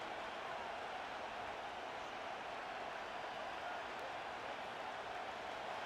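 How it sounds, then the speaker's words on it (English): Steady, dense stadium crowd roar from Buffalo Bills fans in a Madden 25 simulated 49ers at Bills game, a continuous even wash of noise with no distinct peaks, heard before a third-down play. "The Buffalo crowd being heard before 3rd down."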